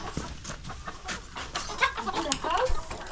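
Poultry cluck inside their house on an urban farm in Mbale while feeding, with several birds making overlapping short clucks close by. A person talks over them.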